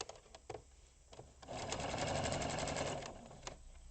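A sewing machine stitches bias binding onto a tied pocket: a few soft clicks, then a fast, steady mechanical whir for about a second and a half that stops abruptly, heard up close with no talking.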